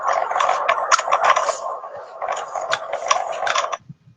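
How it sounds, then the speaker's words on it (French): A busy flock of fowl clucks and squawks nearby in a dense, continuous chatter that pauses briefly midway and then fades out. "Des poules."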